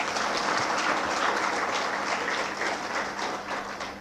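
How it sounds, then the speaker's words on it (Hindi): An audience claps steadily and loudly in honor of a company boss at a gathering, a dense continuous patter of many hands with no voices over it. "हमारे बॉस के लिए जोरदार से तालियां बजाएंगे आप सभी लोग।"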